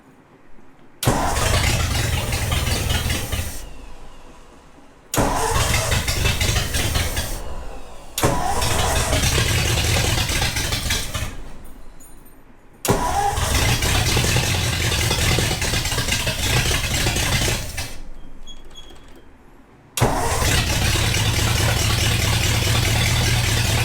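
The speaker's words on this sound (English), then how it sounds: "Let me mess with a couple things and see if I can't get it to idle." A Ford hot rod engine cranks and catches four times, each time running loud and rough for a few seconds before fading and dying, with short silent gaps between attempts and no talk.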